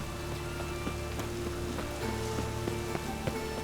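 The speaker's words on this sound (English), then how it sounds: "It just rains and rains." Rain falls steadily in The Witcher III, a continuous pattering wash with scattered sharper drip-like ticks over a low background tone, moderate and even.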